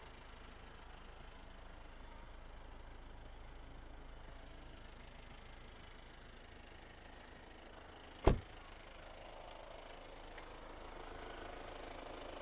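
A quiet, steady diesel engine idle from a Hyundai Santa Fe 2.2 hums throughout, with one sharp click partway through cutting briefly above the low rumble.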